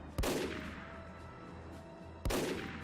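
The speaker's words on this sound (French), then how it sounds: "un petit coup de sniper comme ça" Two loud sniper rifle shots in the Roblox game Military Warfare Tycoon crack about two seconds apart, each a sharp blast followed by a long rumbling echo.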